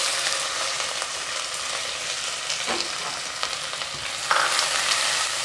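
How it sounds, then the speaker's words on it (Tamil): Onions sautéing in hot oil with cardamom, cinnamon, cloves and a bay leaf, a dense steady sizzle close by with occasional stirring scrapes and a louder burst near the end. "வெங்காயம் நல்லா வதங்கிடுச்சு"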